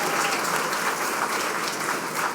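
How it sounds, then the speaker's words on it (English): Audience applause at the San Antonio Women's Hall of Fame gala, a full, even wash of many hands clapping throughout, loud and close with no talk. "Let's give them all a round of applause"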